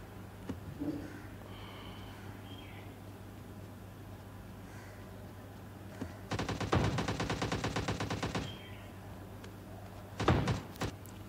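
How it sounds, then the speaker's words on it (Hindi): Gunfire in PUBG Mobile Lite: a sustained burst of rapid automatic shots lasting about two seconds, then a shorter burst later, over faint game ambience with a few thuds earlier. "यहाँ पर सामने गोलियाँ चल रही हैं"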